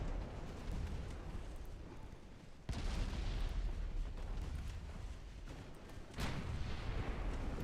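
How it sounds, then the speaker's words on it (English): Heavy 9-inch and 7-inch naval guns boom in a naval strategy game, two big detonations at about 2.7 and 6.2 seconds rising out of a steady low rumble of distant fire. "They've been shooting me the entire time with their 9-inch guns."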